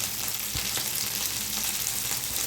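Ginger paste, green chilli and coriander powder frying in a pan for a Bengali fish curry, a loud, dense, continuous sizzle with a few light scrapes of a spoon and no talking.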